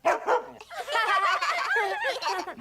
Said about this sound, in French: Bon chien.